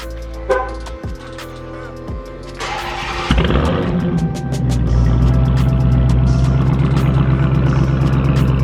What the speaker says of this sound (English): we're gonna get this car started and get the road